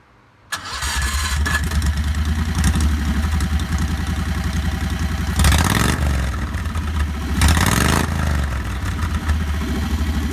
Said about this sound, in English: let's hear the raw sound of the engine without any muffler